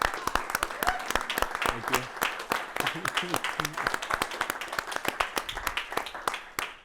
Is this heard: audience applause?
yes